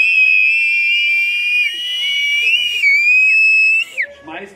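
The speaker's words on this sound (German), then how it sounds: "Pfeif nochmal." A person whistles a loud, sustained high tone at a whisky tasting event, holding the pitch for several seconds with slight wavers before it drops away into faint crowd noise.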